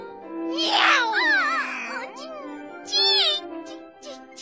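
A voice in a children's animated fairy tale imitates a cat with several drawn-out, wavering meows in a row, close and clear, then a couple of shorter mewing calls.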